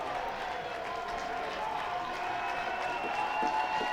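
Crowd noise in a baseball stadium, a dense, even roar of many voices with scattered clapping, held at a moderate distance for several seconds with talk mixed in.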